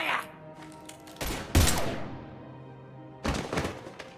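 Gunfire in the Mass Effect Legendary Edition video game, a few heavy booming shots with thuds, separated by short gaps and ringing decay, with no talking.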